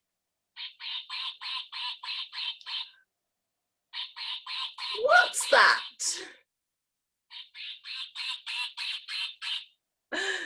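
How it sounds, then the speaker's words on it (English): A children's song features repeated rhythmic quacking duck calls in three bursts of about seven quacks each, separated by a short spoken question in the middle. "Look, it's a duck. Quack, quack, quack."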